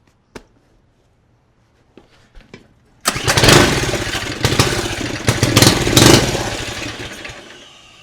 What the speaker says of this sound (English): I just have to start it up before I touch anything, just so you can hear this tiny turbo spool.